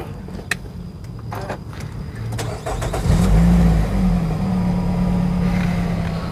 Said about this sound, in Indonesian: Nah, nanti kita coba nyalain Renault Koleosnya.